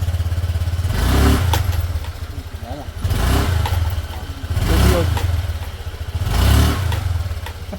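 A motorcycle engine with a knocking fault runs close by in a low, steady thrum, swelling into a louder clattering surge about every two seconds, with a faint voice now and then.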